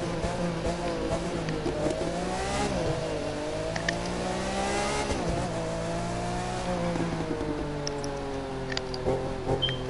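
Race car accelerating in The Crew 2 video game, a steady high-revving engine whine holding and shifting pitch, with a brief dip and surge midway, loud and close with no talk over it.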